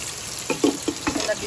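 Garlic, onion and lemongrass sauté with softened meat, making a soft sizzle broken by a few quick utensil clacks and stirring scrapes, near and brief, with faint voices in the background.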